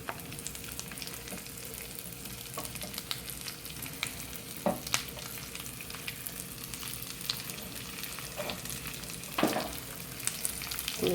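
Four small chopped onions sauté in a pan for a Kerala quail roast, a steady close sizzle with occasional scraping stirs of a spatula, no voices.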